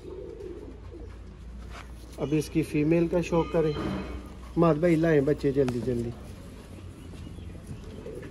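Pigeons kept in a rooftop coop coo softly and faintly, mostly underneath someone talking close by.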